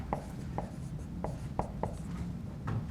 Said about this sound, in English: I draw it without picking up my pencil